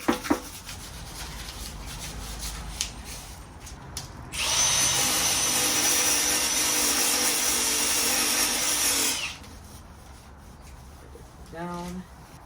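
Sandpaper is rubbed by hand in a continuous, close, rasping stroke lasting several seconds, with quieter handling sounds and a brief voice before and after.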